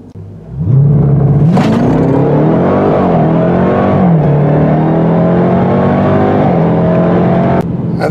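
A 2021 Dodge Durango SRT Hellcat SUV accelerating hard on a private road, its engine roaring loud and close as the revs climb, with a couple of gear shifts briefly dropping the pitch before it rises again.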